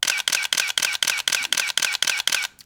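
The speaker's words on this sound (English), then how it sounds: "listen to this shutter actuation though." A worn DSLR camera with a large hole in its top fires a rapid burst of about ten crisp, evenly spaced shutter actuations, close and loud, then stops.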